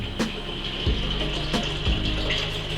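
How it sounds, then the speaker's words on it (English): Cold water pours steadily from a kettle into a container of honey mead, a close, continuous splashing gush with small bubbling shifts across the few seconds, with no voices. "I'm going to use my kettle. Just going to go ahead and top this up with cold water."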